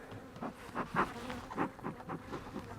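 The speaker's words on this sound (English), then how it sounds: "So yeah, there's a lot of bees in here." Honey bees in a hive buzz in a dense, wavering drone, with individual bees swelling louder as they pass close, steady over the whole stretch at moderate volume.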